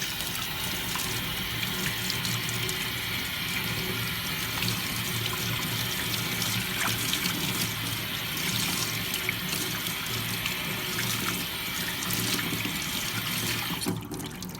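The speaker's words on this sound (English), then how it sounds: "So we're just going to give it a quick rinse." Water from a hose rinses a foam part from a 2000 RM125 motorcycle, a steady close hiss and splash lasting throughout, with no speech.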